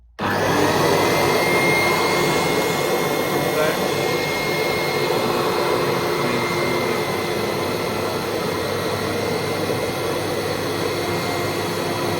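A Bissell Big Green Machine carpet cleaner switches on and runs loud and steady, a constant close roaring suction whoosh that holds unchanged for several seconds.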